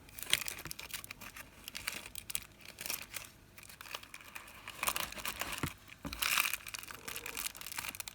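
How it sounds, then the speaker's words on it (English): Cellophane wrapped around paper roses crinkles in irregular bursts of rustling while a ribbon is tied around it, close and quiet, with no speech. "just take a small piece of ribbon and tie all the cellophane in place"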